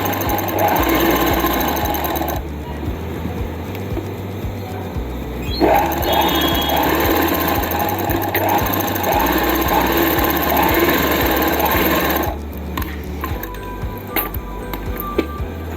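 A sewing machine runs in long continuous bursts, stitching the seams of palazzo pants, with brief pauses and a few light clinks between runs, close and clear.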